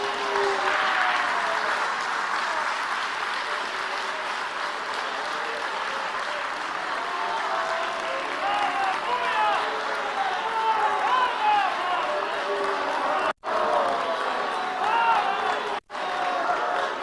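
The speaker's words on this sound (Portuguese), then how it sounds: "Você pode aplaudir a Jesus?" A church congregation applauding, steady sustained clapping from a large crowd with voices mixed in, running loud and continuous before briefly cutting out near the end.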